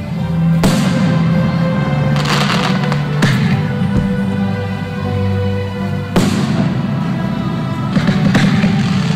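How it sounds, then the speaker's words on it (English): Loud fireworks at a graduation celebration, with sharp bursts near the start, around the middle and late on, and crackling rumble in between. "the senior parents for providing a memorable ending with the display of the fireworks."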